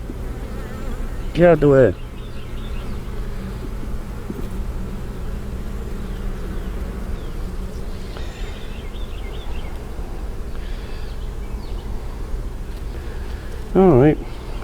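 Honeybees drone in a steady, close buzz around an open beehive during hive splits, with a person speaking briefly near the start.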